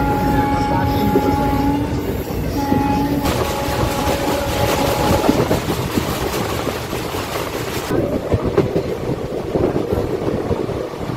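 Gangasagar Express passenger train in motion between Jaynagar and Sealdah, a loud steady rumble with rhythmic clickety-clack of wheels over rail joints, heard from inside a coach throughout.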